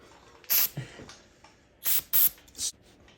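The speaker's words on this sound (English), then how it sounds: "Get a little spray. Now you're going to need a lot of elbow grease." A few short sprays of cleaner from a bottle, hissy bursts spaced apart, with faint rubbing and scraping of glue being removed from a Harley-Davidson Dyna motorcycle in between.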